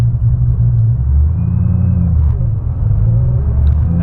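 A Ford Shelby GT500 Mustang with an aftermarket cam idling close by, a loud deep rumble with an uneven, loping pulse that stays steady throughout, with no voices.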